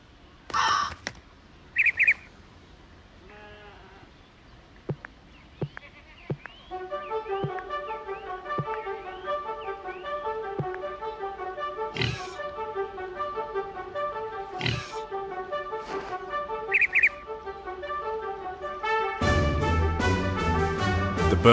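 Video game bird calls and caws at dawn in an Animal Farm game ring out in a steady repeating chorus, joined by scattered clicks and a rising buzzy texture near the end, with no talking.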